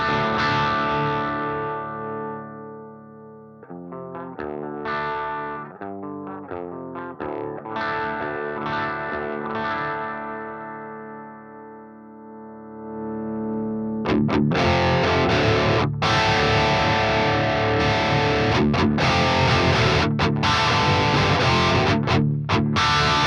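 An electric guitar runs through an amplifier with the pedal switched off at a cleanish, low-gain setting, playing sustained chords and picked notes before a louder, denser strummed section. It is close and steady, with no talk.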